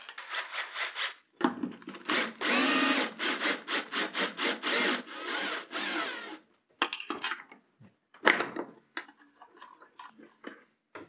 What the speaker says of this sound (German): Deshalb holen wir uns jetzt einen Abrundfräser und gehen an die an den Frästisch.